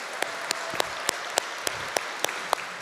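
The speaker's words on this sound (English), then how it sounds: "Let's give them a round of applause." An audience at a credit union annual meeting applauds a swing band, with sharp claps landing in a steady, even rhythm over a continuous bed of clapping.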